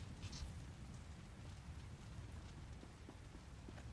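Steady video-game rain hisses evenly and softly throughout, with scattered faint droplet ticks and no voices.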